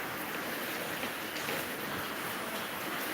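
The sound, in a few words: light drizzle rain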